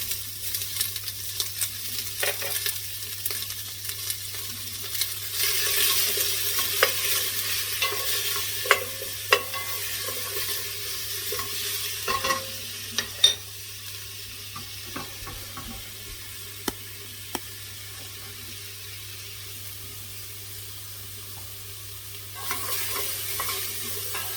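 Ginger and garlic fry and get stirred in a pot for pumpkin soup, a steady close sizzle with scattered scraping knocks of the spoon, louder in the middle and quieter later, no talking.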